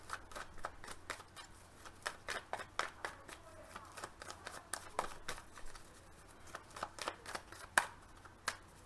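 Tarot cards being shuffled by hand in a quick run of crisp riffling flicks and soft slaps, steady and close, with no voices over them.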